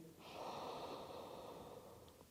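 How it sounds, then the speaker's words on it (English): A long, steady in-breath drawn through the nose before chanting a mantra in a yoga practice, airy and close, heard alone without speech. "So breathing in."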